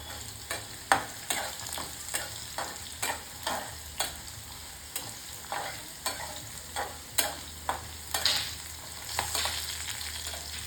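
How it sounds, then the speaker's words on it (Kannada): Cumin seeds sizzling in hot oil for a sorrel leaves chutney, with a steady close frying hiss broken by regular scraping stirs of a spoon against the pan, about one stroke per second, no voices. "ಈ ಸಮಯದಲ್ಲಿ 1 ಸ್ಪೂನು ಜೀರಿಗೆ ಹಾಕ್ತಾ ಇದ್ದೀನಿ."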